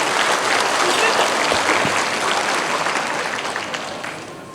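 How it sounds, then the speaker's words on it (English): At an evening event, an indoor audience gives guests a sustained round of applause that stays full and even, then slowly fades. "let's give them a round of applause for being here tonight"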